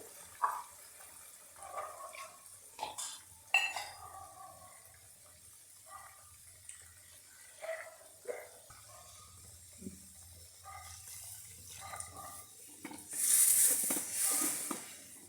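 Hot water poured into a chutney, preceded by scattered kitchen clinks and clatter, with a short bright splash of pouring near the end.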